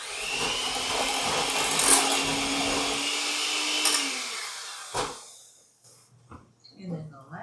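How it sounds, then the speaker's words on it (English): An electric mixer whirs through a vanilla sour cream mixture for cheesecake, a steady close buzzing drone for about three seconds that winds down and stops, followed by quiet handling sounds and brief talk. "we can mix that up a little bit more"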